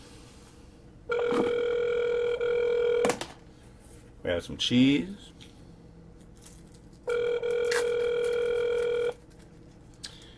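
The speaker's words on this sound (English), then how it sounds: "We have a phone ringing." A telephone rings in two long electronic trills, loud and close, with a short burst of talk between them.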